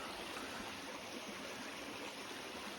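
Creek water flowing over rocks on a nature hike, a steady broadband rush and trickle filling the scene, close and continuous with no talking.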